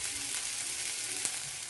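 Food frying in a pan as part of a HelloFresh meal kit recipe, a steady close hiss of sizzling with no pauses and nobody talking over it.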